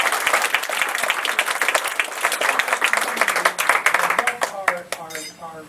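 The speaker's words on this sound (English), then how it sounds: "Just give her a round of applause." An audience applauds at a human rights event, dense clapping that rises and thins out toward the end, with a few scattered claps and a voice emerging near the close.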